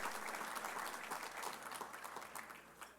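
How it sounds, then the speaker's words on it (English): Dinner audience at an annual Border Patrol Foundation recognition dinner applauding, a dense continuous patter of many hands heard from a distance and fading slightly toward the end. "give yourselves a round of applause for being here in person with us on this incredible night"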